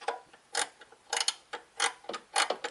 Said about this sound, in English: Once you loosen the bolts, you can use a ratcheting spanner if you have it.